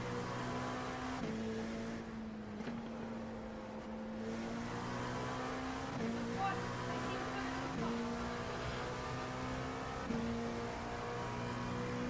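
An LMP2 prototype race car in a racing game bounces off its rev limiter, a steady buzzing engine drone stuttering every second or two, heard up close from the cockpit.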